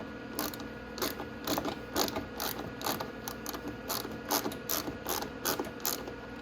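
Ratchet wrench loosening a bottom fairing bolt on a Venom X22R 250cc motorcycle, a close, crisp series of rapid clicking bursts in an uneven rhythm over a quiet background.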